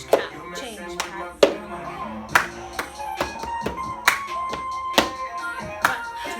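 Clapping and taps of plastic cups on a surface in the cup game rhythm. Sharp hits repeat at a steady pulse, about every half second, close and clear.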